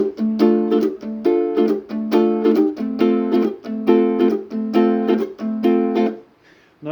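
A ukulele strums a song's driving rhythm: repeated bright chord strokes in a steady, accented pattern, close and loud, playing solo before a brief pause at the end.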